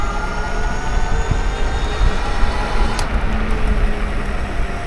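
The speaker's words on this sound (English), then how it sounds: "I am using dual motors and I am pretty much just mashing my throttle" Dual e-bike motors at full throttle on a ride in California, a loud, steady roar of drive noise and rushing wind with a low rumble throughout and no speech.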